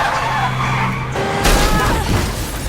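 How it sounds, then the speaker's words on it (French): A car in a film skids and slams into a tree, a sustained engine and tire sound cutting off abruptly into a loud broadband crash with rattling debris. "La voiture percute un arbre et part en vrille."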